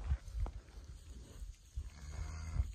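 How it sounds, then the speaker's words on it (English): Cows in a field moo a few times at a moderate distance, low drawn-out calls rising over a quiet outdoor background. "these cows are literally following me and they're mooing at me"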